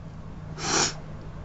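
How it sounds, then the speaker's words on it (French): One short, sharp sniff through a runny nose from someone with a cold, close and breathy, standing out briefly against a quiet background. "Et on renifle."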